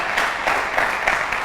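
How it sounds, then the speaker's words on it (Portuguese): A church congregation claps together in dense, steady applause, moderately loud and close, with no voices over it. "Dá um aplauso aí, pode aplaudir mesmo"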